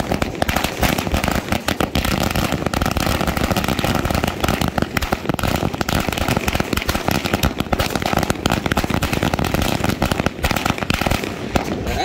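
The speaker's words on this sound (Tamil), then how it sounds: "நல்லா வெடிக்கும், தரமான பட்டாசு. ஆயிரம் பட்டாசுனா ஆயிரம் பட்டாசு கரெக்டா இருக்கும்." A string of a thousand Sivakasi firecrackers bursts nonstop for twelve seconds, a loud, dense, rapid crackle of overlapping bangs with no pauses.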